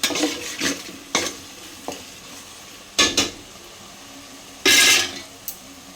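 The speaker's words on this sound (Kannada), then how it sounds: "ನೋಡಿ ಯಾವ ಥರ ನಾನು ನೀಟಾಗಿ ಮಿಕ್ಸ್ ಮಾಡ್ಕೋತಾ ಇದ್ದೀನಿ ಅಂತ." A spoon stirs tomato bath masala in a pan, producing irregular scraping and clinking strokes over a soft background sizzle, with a few louder metallic scrapes and no talking.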